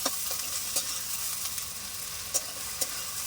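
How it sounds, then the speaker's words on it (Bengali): Cumin paste frying in a pan while being stirred, a soft continuous sizzle with a few sharp spoon clicks and scrapes against the pan, close but fairly quiet, no talking. "জিরে বাটাটা দিয়ে দেবো ভালো করে নেড়ে চেয়ে নেবো"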